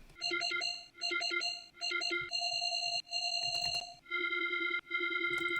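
A melodic dubstep synth effect from the Massive instrument plays a bright, bell-like tonal phrase in repeating short bursts, then longer sustained notes, clean and fairly quiet.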